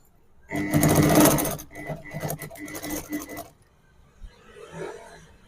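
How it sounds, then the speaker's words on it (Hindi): A sewing machine stitches folded fabric for a bra in one loud, close run of about three seconds, broken by a few brief stops, and then falls quiet. "यहाँ पर एक सिलाई लगा देना है"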